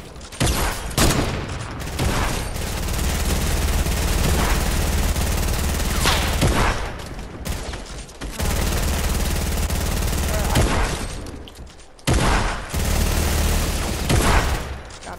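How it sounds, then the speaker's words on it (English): Gunfire and grenade explosions in Fortnite, dense loud volleys of shots and heavy blasts running almost continuously, broken by a few brief pauses. "Oh, the grenades are flying through the thing."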